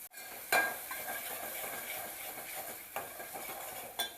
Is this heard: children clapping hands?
no